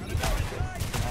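Gunfire in Tom Clancy's The Division, a dense burst of rapid shots rattling continuously through a loud, short moment, with a voice faintly mixed in.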